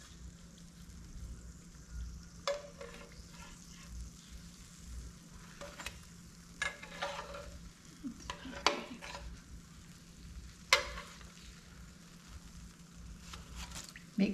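Apple pies frying in hot grease in an electric skillet: a steady soft sizzle with faint crackles and occasional sharp pops and clinks, fairly quiet and continuous throughout.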